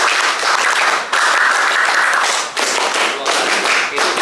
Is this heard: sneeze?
no